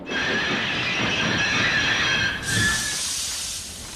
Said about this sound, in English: In the countryside, Thomas's brakes sound like this.